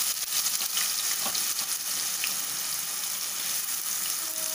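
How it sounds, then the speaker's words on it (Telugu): Onion, green chili and ginger-garlic paste frying in hot oil for chicken fry, a steady close sizzle with a few stirring clicks, brief and unaccompanied by talk. "కొంచెం బాగా వేగాలి, పచ్చి వాసన పోయేవరకు"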